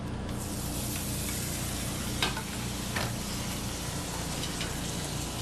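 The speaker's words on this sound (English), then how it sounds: "You can really hear, this is where the sizzle comes from then." Steady, loud sizzling of a steak on a very hot plate, a continuous crackling hiss with a few sharper pops, no talking.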